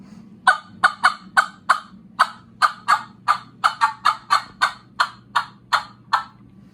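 A Terminator tube turkey call imitates a hen turkey's cutting call, loud, sharp, clucking notes fired in a rapid, slightly irregular series of about twenty, close and alone.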